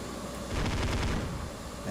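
Aircraft guns fire in a short burst during a dogfight in the IL-2 1946 flight simulator, a rapid rattle lasting about a second over steady engine noise.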